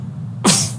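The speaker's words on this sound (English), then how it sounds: "sneeze in the middle of that." A single sharp sneeze bursts out abruptly from a cricket commentator during a live county championship broadcast, loud and close, then fades into quiet background hum.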